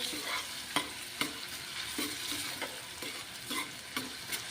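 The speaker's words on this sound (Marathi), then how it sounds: "मस्त असा बारीक फिरून कांदा टाकलेला आहे" Finely chopped onion fries in a pan with a steady sizzle, while a spoon scrapes and taps against the pan in frequent, irregular strokes close to the microphone.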